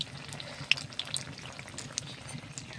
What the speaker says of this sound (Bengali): দেখছেন তো কতগুলা বেগুনি ভাজা হয়ে গেছে।